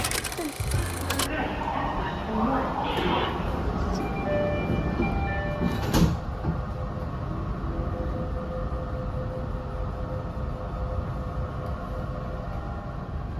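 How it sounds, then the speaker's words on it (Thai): An Indonesian MRT metro train rumbles steadily along the track, rising from underground to elevated between ASEAN and Senayan stations, with an early burst of rushing noise and a squeal before settling into a continuous low drone. "รถไฟ MRT จากใต้ดินก็ขึ้นมาบนฝาแล้วค่ะ ระหว่างสถานีอาเชียนกับเซนายาน"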